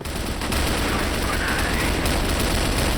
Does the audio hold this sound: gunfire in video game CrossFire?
yes